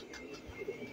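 A pigeon coos softly, a short, faint, low murmuring call heard alone.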